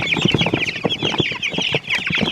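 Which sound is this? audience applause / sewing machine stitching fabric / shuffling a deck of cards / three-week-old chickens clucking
three-week-old chickens clucking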